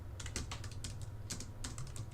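Rapid key presses on a computer keyboard's top row of number keys, a quick irregular clatter of about a dozen close, crisp taps over a steady low hum, with no voices.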